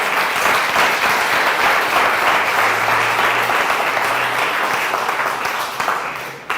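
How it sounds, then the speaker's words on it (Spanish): A church congregation applauds together in a sustained, even wash of clapping that holds steady, then thins slightly toward the end, with a faint low hum beneath. "¿Puede aplaudirle, Señor, con toda gloria?"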